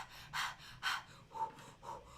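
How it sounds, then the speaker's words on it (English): Layered breathing in a song: four quiet, close breaths in an even rhythm, the first two sharp and airy, the last two softer and more tonal. "There's layers of freaking breathing."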